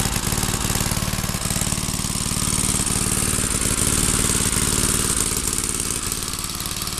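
A 1936 Loke lawn mower engine running steadily, a rapid close, loud putter of regular firing pulses with a rattling, knocking edge and no voices.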